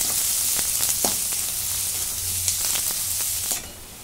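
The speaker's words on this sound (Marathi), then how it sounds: "2 बारीक कांदे चिरून घेतलेले आहेत. हे भाजून घेते." Two finely chopped onions fry in a pan with a constant bright sizzle, broken by a few soft clicks and scrapes of stirring, before the hiss drops slightly at the end.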